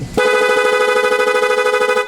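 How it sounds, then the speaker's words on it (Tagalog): A motorcycle's loud horn blares close and strong in a single sustained honk lasting about two seconds, steady and bright from start to finish. "Tapos switch natin sa loud horn."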